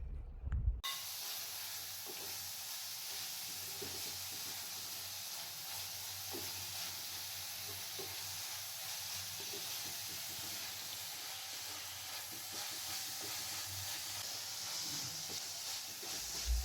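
Crushed shallots for Kerala-style beef thoran fry in a pan with a steady, soft, continuous sizzle and hiss, and occasional faint clinks from stirring, with no voices.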